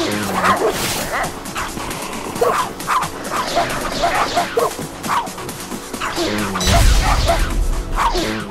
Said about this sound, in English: There's a big dog over there.